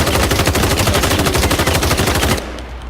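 Rapid, loud gunfire from a video game weapon in Islands of Nyne, a dense rattling burst of closely spaced shots lasting over two seconds before cutting off abruptly.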